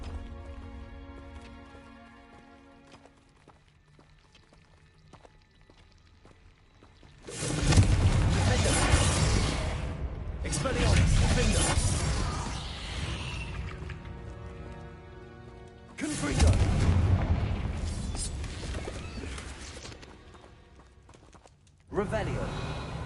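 A Confringo blast spell fires in a Harry Potter video game, with several loud, sharp bursts and crackling impacts, each lasting a second or two, cutting over quieter ambient game music and sound effects.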